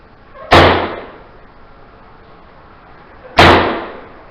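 Two loud, sharp slams ring out about three seconds apart inside an abandoned mental hospital, each echoing and decaying through the empty building with no talk.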